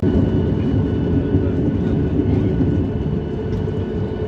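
Airplanes at an airport with flights to the Seychelles give a steady, loud low engine roar and hum, constant throughout with no pauses.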